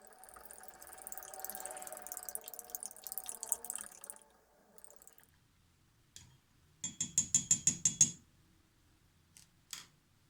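Ration coffee powder and sweetener being stirred into water in a cup, heard as a burst of rapid rhythmic clinking and scraping strokes fairly close, after a stretch of softer handling noise, with a brief knock near the end.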